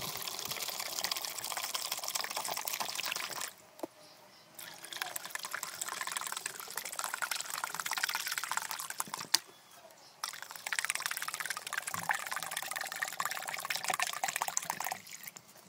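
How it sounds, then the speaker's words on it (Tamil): Three litres of river water pour into a plastic bucket in a steady, splashing stream. The pour pauses briefly twice before continuing, and it is close and fairly quiet. "இப்போ இந்த 3 லிட்டர் ஆற்று தண்ணியையும் இந்த பிளாஸ்டிக் வாளியில் ஊற்றிடலாம்."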